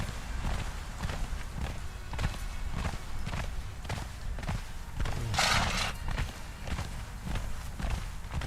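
Horse hooves in the video game Conan Exiles, a steady rhythmic clopping at an even gallop pace, fairly close and continuous under a light ambient wash.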